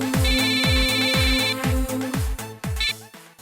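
A mobile phone rings with an incoming call from the caller's mother, sounding as a looping electronic ringtone melody with steady repeated beats and a bright high tone, loud and close, playing alone before fading out.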